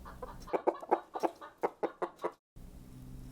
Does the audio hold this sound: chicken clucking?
yes